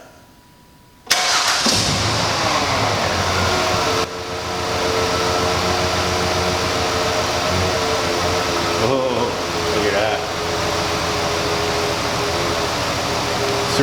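A car engine cranks and catches at about one second, then settles into a steady, loud idle that runs near and continuous, with slight dips later; the engine has a no-code misfire with one cylinder dropping out.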